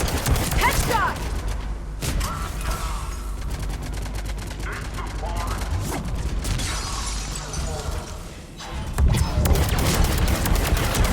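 Rapid bursts of automatic gunfire and weapon impacts from Mass Effect 3 multiplayer, loud and nearly continuous with brief pauses, mixed with mechanical clatter and a person talking over the shooting.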